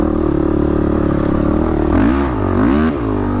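A 2014 Honda 450 dirt bike engine held against its rev limiter, a loud steady high buzz that stutters and dips in quick surges near the end, close and alone.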